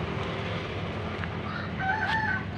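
Rooster crowing at a farm beside a green cornfield, a drawn-out call rising near the end over steady outdoor background noise, with no talking.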